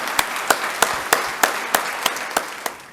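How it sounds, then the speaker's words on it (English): Applause for the city council at a State of the City event, heard as a steady, evenly spaced series of sharp claps over a diffuse crowd wash, gradually thinning out. "let's have a round of applause for the entire City Council"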